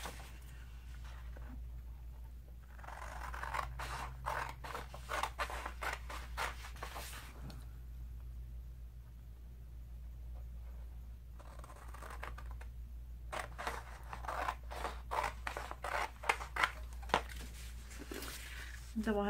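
Scissors snip repeatedly through paper, cutting small pieces for a Zentangle journal; the cuts come in quick rhythmic bursts with short pauses, close and moderately loud, with a steady low hum underneath and no talking.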